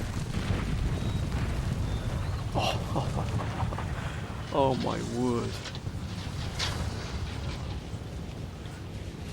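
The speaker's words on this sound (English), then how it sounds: "Listen to the gunfire." Booming artillery gunfire rumbles in Napoleon Total War during the battle for Wilson's Creek, a steady low roar of distant cannon with a man briefly exclaiming over it.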